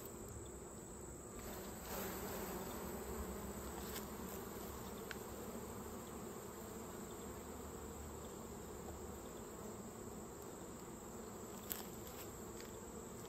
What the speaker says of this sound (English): We'll shake the bees off in the original hive just in case we